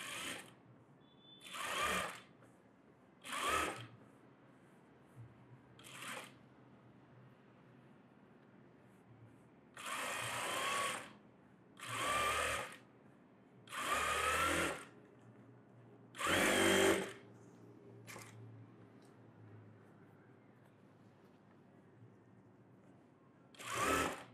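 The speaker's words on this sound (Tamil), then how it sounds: "இப்போ இதுக்கு மேலே நம்ம ஒரு தையல் போட்டுக்கலாம்." A sewing machine stitches a net blouse in a tailoring lesson, running in about nine short, loud bursts of steady mechanical whirring separated by quiet pauses.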